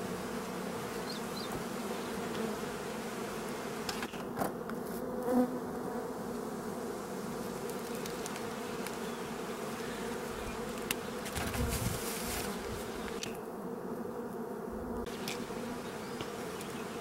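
A dense, steady drone of many bees buzzing close by, continuous and even throughout, with occasional faint clicks and shifts.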